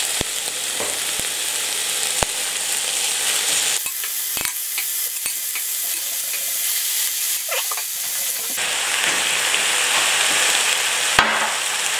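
Small quails and browned onions sizzling loudly in a frying pan, a dense continuous crackle and hiss with occasional sharp pops and brief stirring scrapes, close up and with no talking.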